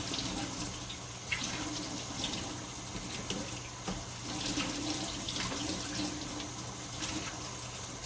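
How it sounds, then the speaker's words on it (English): Tap water runs steadily into a kitchen sink over a strainer of canned black beans, a continuous close splashing rush with faint clinks, and no talking. "I'm going to wash that juice off of these black beans."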